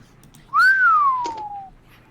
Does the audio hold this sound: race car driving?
no